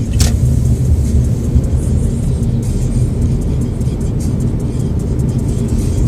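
A car pulling out onto a road and gaining speed during a Nova Scotia driving test in Truro, its engine and tyre rumble heard from inside the cabin, steady and loud, with a sharp click near the start.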